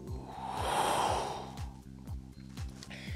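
A person exhales slowly and audibly during a fitness exercise, a soft breathy whoosh swelling and fading over about a second, over a steady rhythmic background beat.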